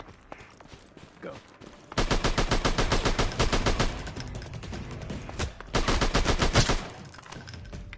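Automatic gunfire in the shooter game Alvo, two long sustained bursts of rapid rattling shots with a short pause between them, loud and close after a quiet opening.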